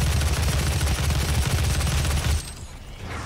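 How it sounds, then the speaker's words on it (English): Heavy repeated shotgun blasts in DOOM, a rapid pounding run of booming shots that stops abruptly, leaving a quieter tail. "I love the shoddy shotgun,"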